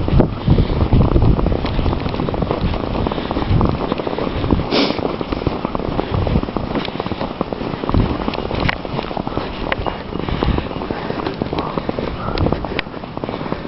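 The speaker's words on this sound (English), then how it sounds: "And the wind has picked up again." Strong wind roars across the microphone during a February snow blizzard, a loud continuous rumble with gusty buffeting and no voices.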